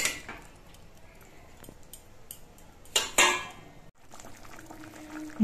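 Hilsa fish curry with vegetables simmering in a pan, a bubbling, liquid churn broken by clinks of a spoon against the pot, with a louder clatter near the middle.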